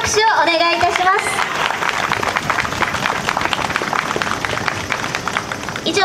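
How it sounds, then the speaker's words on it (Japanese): Audience applause at the opening ceremony of the 2019 Tōgane YASSA Festival: a brief call or whistle at the start, then a loud, dense burst of many people clapping that carries on steadily to the end. "皆様今一度盛大な拍手をお願いいたします。"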